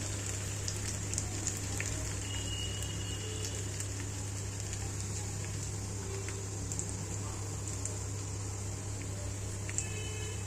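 Crushed garlic frying in hot oil as a tempering for tomato drumstick dal, a steady faint sizzle with a low hum underneath and occasional small pops.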